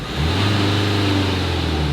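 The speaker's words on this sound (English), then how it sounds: "And the engine sounds clean" A salvaged Mercedes A-Class engine runs steadily at a smooth idle, a constant low hum close by with no voices.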